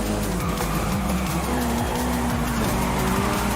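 A race car in Forza Horizon 5 brakes hard through a corner, its loud engine droning as the tires squeal and skid in long pitched streaks over continuous road noise.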